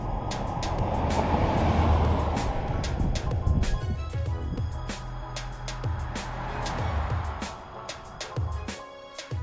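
A 2021 Range Rover Velar P400e plug-in hybrid on the move, giving a steady low road and drivetrain rumble through the whole stretch, with sharp clicking or percussive streaks layered on top.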